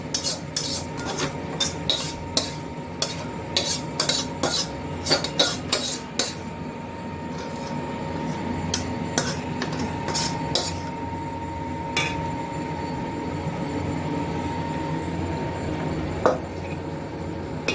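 Chicken and potatoes stirred in a cooking pot, a ladle scraping and clanking against the metal in quick irregular strokes, with a softer bubbling simmer beneath.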